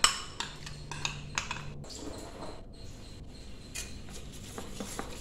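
Cocoa powder being stirred into half of a marble cake batter in a bowl, with soft scraping and light clinks of the utensil against the bowl in an irregular, close-up rhythm.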